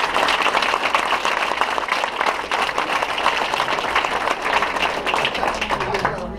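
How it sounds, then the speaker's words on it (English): Audience applause fills a council meeting room, steady and dense clapping throughout, with some voices mixed in under it. "Let's give Kendall Henry a round of applause."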